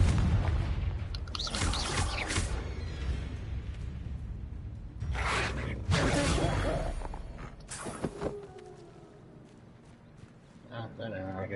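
Confringo blast spells cast in Hogwarts Legacy: several booming bursts with whooshing swells, spaced a few seconds apart, over game background noise and under a talking voice.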